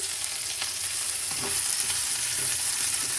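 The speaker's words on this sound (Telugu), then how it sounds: "దీంట్లోకి ఆయిల్ వేసుకొని ఫ్రై చేసుకోవాలి" Bitter gourd frying in oil, a continuous close sizzle with soft stirring scrapes and light crackles.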